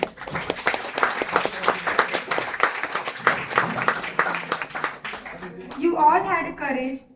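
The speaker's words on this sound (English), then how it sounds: "A huge round of applause for all the 8 participants." Audience applause for the eight participants of an Independence Day debate competition, dense steady clapping that fills the hall for several seconds, with cheering voices rising near the end.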